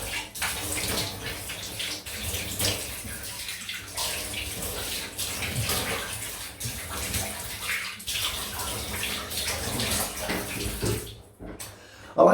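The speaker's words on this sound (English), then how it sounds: "I like rinsing down there because I've got a nice big bathtub and the water gets so cold so quickly" Cold water gushes steadily from a tap into a large bathtub, a loud continuous splashing rush with faint shifts as hands rinse a face, ending abruptly.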